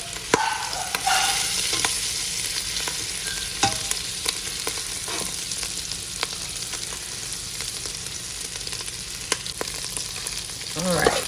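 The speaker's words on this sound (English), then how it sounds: "let's spoon out the meatballs that are done" Keto meatballs sizzle steadily in a frying pan while a spoon scrapes and clinks against it, lifting out the finished ones with a few sharper knocks near the start and end.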